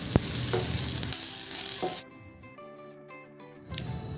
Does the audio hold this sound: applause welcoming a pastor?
no